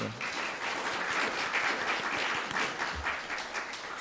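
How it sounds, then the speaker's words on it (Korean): Church congregation applauding as a blessing for two expecting families during a Korean Sunday service; steady, dense clapping from a full room, fairly distant and sustained throughout. "축복의 박수 한번 부탁드립니다"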